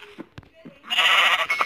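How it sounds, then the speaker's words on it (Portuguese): Sheep bleat at a small farm, first in a few short, faint calls, then one loud, sustained bleat up close. "Cadê a ovelha?"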